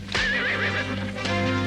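A horse neighs loudly and close, a shrill wavering whinny followed by snorting and stamping movement.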